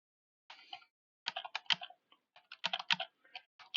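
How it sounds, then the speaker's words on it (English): Someone types on a computer keyboard in bursts of quick, close, crisp key clicks separated by short pauses, with no talking. "hit the backspace to get rid of it, and start typing in"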